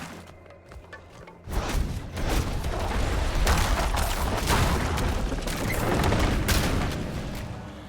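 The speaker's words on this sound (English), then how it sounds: "Explosion!" Explosions in the Diablo IV video game burst in a dense cluster after a quiet opening, a run of booming thuds and crackling blasts following close together and fading gradually.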